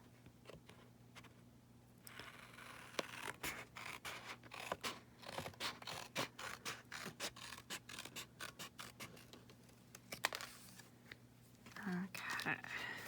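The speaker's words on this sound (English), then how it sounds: "We'll just go ahead and scissor this across." Scissors snip across paper for a junk journal craft, a quiet series of rapid rasping cuts in bursts, close and faint with brief pauses between strokes.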